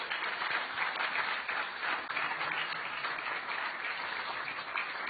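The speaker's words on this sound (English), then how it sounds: "really I want to give Lacey a big round of applause" Steady applause from an audience at an Explorers Club symposium, a dense wash of clapping sustained throughout at moderate volume.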